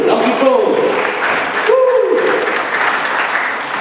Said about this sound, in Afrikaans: Ek wil julle met 'n groot aandag klap gee vir my assistent, Paul Byron.